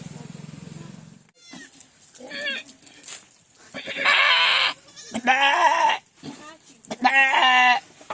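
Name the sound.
voice imitating a goat bleating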